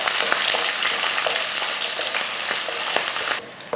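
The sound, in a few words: sautéing shallots, garlic and curry leaves in oil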